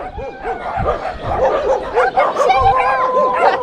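Several dogs bark and yelp in rapid, overlapping bursts outdoors, loud and near, with a faint voice or laugh briefly mixed in.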